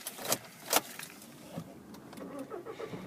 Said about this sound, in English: taking a look at the display whilst I start the car